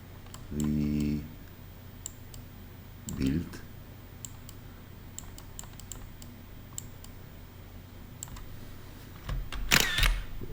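Sparse, faint computer mouse clicks from someone working in Rhino 3D version 8 modeling software, with a few brief bursts of speech between the clicks.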